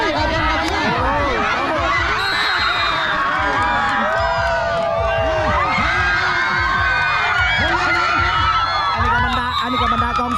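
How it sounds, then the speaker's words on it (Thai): A crowd of supporters at a game during a monkey-feeding festival at Ban Dong Mueang in Champhone, Laos, cheers loudly and without a break. Shouts, whoops and children's cries rise over a steady babble of voices. "อันนี้ก็บรรดากองเชียร์เหมือนเนาะ"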